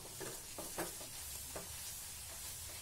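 Flattened rice (poha) dropped into hot oil in a wire strainer over a high gas flame, a faint steady sizzle and hiss with a few soft scraping stirs near the start.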